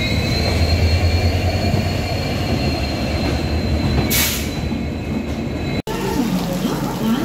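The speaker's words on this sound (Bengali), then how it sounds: "তাম্বারাম এক্সপ্রেস এখন নিউ বঙ্গাইগাঁও জংশন রেলওয়ে স্টেশনে পৌঁছে গেল" Tinsukia-Tambaram Express pulls into New Bongaigaon Junction in rainy weather, a loud continuous rumble with a steady whine and a brief hiss midway, then a sudden cut before the rumble resumes.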